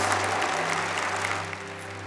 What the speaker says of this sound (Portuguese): Vamos aplaudir a palavra de Deus então?